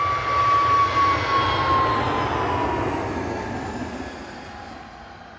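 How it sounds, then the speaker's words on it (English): An Airbus A380 airliner at Manchester Airport gives a loud, broad jet engine roar that is strongest at the start and slowly fades as it passes, with no one talking. "This is our second A380 since we've been live."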